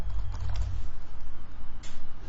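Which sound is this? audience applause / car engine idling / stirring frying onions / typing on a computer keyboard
typing on a computer keyboard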